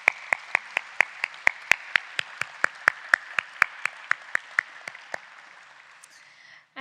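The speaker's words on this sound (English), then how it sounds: "please give them a round of applause" A single pair of hands, or a few, claps in a steady, evenly spaced rhythm at a community development event, sharp close claps over a faint wash of room noise that trails off after about five seconds.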